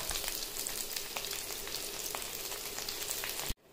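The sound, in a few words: oil sizzling on steamed fish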